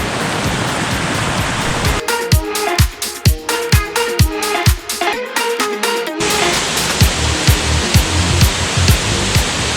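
Mae Sa waterfall's fifth tier in Mae Rim, Chiang Mai, roars as a steady, loud wash of falling water, with a burst of sharp clicking and knocking in the middle of the clip.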